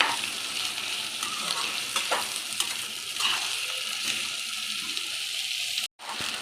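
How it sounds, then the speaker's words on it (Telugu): Vegetables for a white kurma fry and get stirred in a pan, a steady close sizzle with scraping stirs throughout, cut off by a brief silence near the end. "ఒక 2 మినిట్స్ బాగా దీన్ని ఫ్రై చేద్దామండి."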